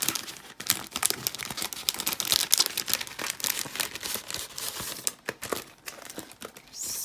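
Packets of photo play trick-or-treat cardstock die cuts are torn open by hand: close, irregular crinkling and crumpling of plastic wrap with short tearing bursts, no talking.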